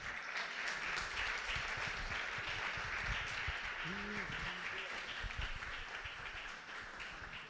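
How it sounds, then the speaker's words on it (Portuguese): Church congregation clapping in praise during a Portuguese-language service, a dense steady wash of many hands that fades slightly toward the end, with a brief voice breaking through midway. "E as palmas louvem ao nosso Deus."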